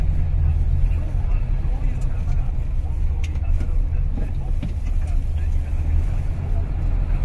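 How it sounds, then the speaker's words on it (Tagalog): Road traffic on a congested street in Japan, heard from inside a loaded truck cab: a steady low engine and road rumble with cars passing nearby, continuous and fairly loud, with no talking. "Traffic na."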